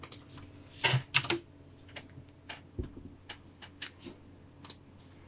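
Keys clatter on a computer keyboard during a login, with a few sharp, close clicks followed by scattered lighter taps and short pauses, and no talking.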